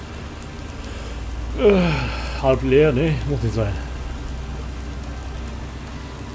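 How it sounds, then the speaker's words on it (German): Steady rain hisses throughout on a farm in Thuringia, with someone speaking briefly over it in the middle. "Na, wie findet ihr den Regen? Wieder schön, ne?"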